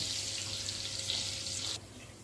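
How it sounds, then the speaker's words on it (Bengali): Pointed gourd (potol) fries in hot oil, a steady close sizzle that drops to a softer hiss near the end, with no talking. "পটল তো এগুলো ভালো করে ভেজে নিতে হবে।"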